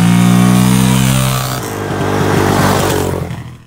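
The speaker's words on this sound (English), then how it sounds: "you guys saw us both take a little rip there on the Warrior" A Yamaha Warrior 350 ATV engine roars loud and close on a ride, holding a steady rev before the pitch drops and then climbs again as it pulls away, with no talking.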